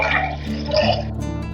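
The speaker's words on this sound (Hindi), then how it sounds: "अब हम इसमें डालेंगे 2 लीटर पानी" Water pours steadily into a cooking pot of chicken soup, a sustained splashing gush that fades near the end, close and fairly loud with no talk.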